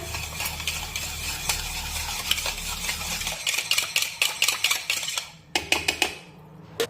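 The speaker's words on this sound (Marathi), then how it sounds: "आता ही साखर दुधामध्ये व्यवस्थित मिक्स करून घेऊया आणि विरघळून घेऊया" A spoon stirs sugar into milk to dissolve it, with a rapid run of clinking taps against the vessel that continues after a low background hum cuts out.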